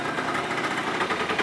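A cold Honda X8R-S scooter idles on its automatic choke at slightly raised revs, giving a steady, close buzzing engine drone with a fast, even pulse.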